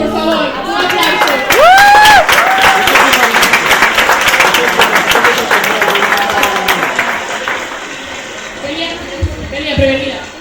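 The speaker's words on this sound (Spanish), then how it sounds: "Unha contemplación para eles, por favor. Un aplauso." Audience applause and cheering at a stage contest show, a dense wash of clapping with whoops and voices over it, fading gradually toward the end.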